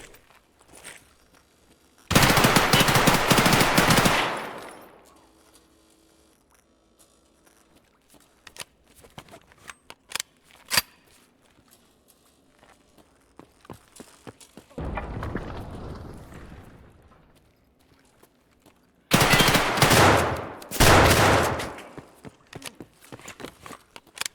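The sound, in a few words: gunfire in the video game Escape from Tarkov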